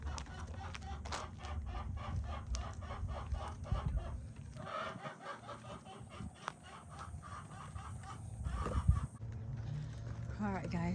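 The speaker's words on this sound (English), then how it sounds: "Wow, look at these chickens." Chickens at a fruit orchard farm in Las Vegas cluck repeatedly and a rooster crows near the end, the birds close by and fairly quiet under bursts of talking.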